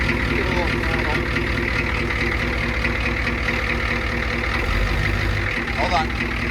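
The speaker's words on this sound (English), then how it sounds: "But give it a little throttle." A 1985 Ford F250 with a 6.9 IDI diesel engine rumbles steadily and loud, with the throttle blipped briefly near the end, while a person talks over it.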